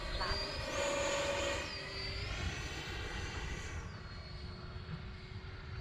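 An X-Fly Alpha RC airplane makes a low pass with its landing gear down and flaps set, its engine droning steadily and shifting in pitch as it passes over a runway.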